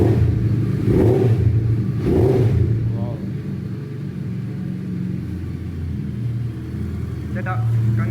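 A Suzuki Hayabusa superbike's engine gets a couple of light throttle blips, rising and falling in short revs over a steady rumbling idle, close by, with people talking over it.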